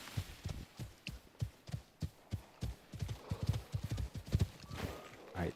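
A horse's hooves clip-clop at a steady walking rhythm in the survival video game Icarus, with evenly spaced, fairly soft thuds continuing throughout.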